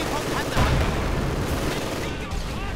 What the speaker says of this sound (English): there we go, another incendiary artillery barrage